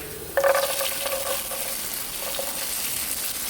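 Boiled peanuts drop into a hot pan of frying onion, mustard seeds and chilli, setting off a sudden loud sizzle. Steady crackling and stirring follow, fading a little toward the end, with no talking.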